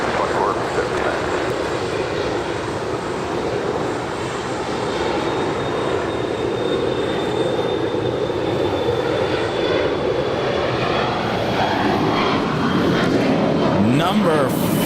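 Airliner taking off from runway 25 right at LAX, a loud, sustained jet engine roar with a rising whine, heard from nearby, while a tower controller's radio voice talks over it.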